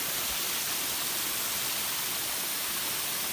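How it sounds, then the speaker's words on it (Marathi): A hidden waterfall in the Palghar hills pours over rocky cliff edges, making a steady, unbroken broadband roar that stays even and fairly loud throughout, with no voices. "कड्यांच्या कडा आहेत त्याच्यावरून धबधबा पडतोय"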